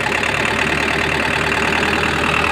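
Isuzu 4JJ1 diesel engine with an overheating radiator idling nearby, a steady loud rattling clatter with constant rhythm throughout and no voices.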